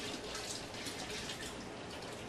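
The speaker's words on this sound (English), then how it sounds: "Alright, we got our water in the pot." Spring water runs into a pot for brewing beer, a soft, steady hissing stream that stays faint and even with no one talking.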